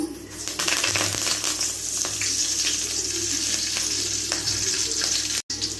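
Curry leaves hit hot oil in a pan for an egg bhurji, giving a loud, continuous crackling sizzle close by, with a few stirring scrapes and a momentary cut near the end.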